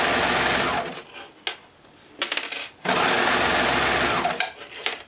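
Overlocker serging stretchy swimsuit fabric, running in two loud, close, sustained whirring bursts separated by short pauses filled with light clicks and handling noise.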